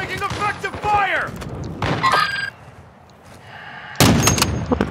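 Gunfire in the Call of Duty DMZ game mode: several loud bursts of shots and impacts, close and punchy, interleaved with in-game radio chatter and a player talking.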